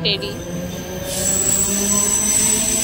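A train rumbles past close by, its wheels letting out a long, high metallic squeal that builds and holds steady.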